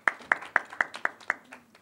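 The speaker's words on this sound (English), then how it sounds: "a huge round of applause to all the designers" Sparse clapping at a Lakme Fashion Week press conference, about half a dozen sharp, evenly spaced claps close by, fading out rather than building into full applause.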